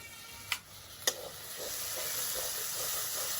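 A little water goes into masala sizzling and slightly stuck to a kadai while cooking capsicum chicken kosha. Two sharp clinks come first, then a hissing sizzle swells and holds steady.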